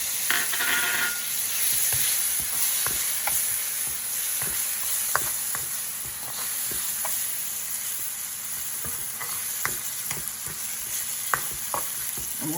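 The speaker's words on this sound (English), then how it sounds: "put the fresh tomato and let it cook a little" Fresh tomato cooks in a pan for eggplant bhartha, a continuous close sizzle and fry broken by frequent light scrapes and taps of a stirring spoon, with no talking.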